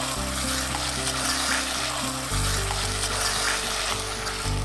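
Boneless chicken pieces frying in a pan, a dense continuous sizzle with occasional stirring, close and steady, under a loud droning background music track.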